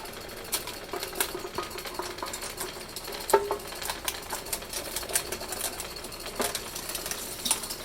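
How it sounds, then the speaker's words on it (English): A meat grinder works through raw meat and bones for homemade dog and cat food, giving a steady mechanical whir broken by irregular clicks and cracks as bone passes through, fairly close and with no talking. "And I will go ahead and get started with the grinding."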